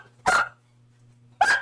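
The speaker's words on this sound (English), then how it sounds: "I'm about to have my dog bark furiously." A dog barks twice, loud and close, about a second apart, over a steady low electrical hum with no talk.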